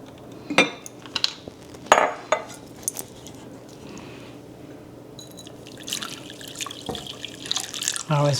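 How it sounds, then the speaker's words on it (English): Water is poured into a jar while aloe vera juice is made in a home kitchen, with trickling splashes, glass and utensil clinks, and a few sharp knocks scattered throughout. "I always pour some water back in here and get the last of it out."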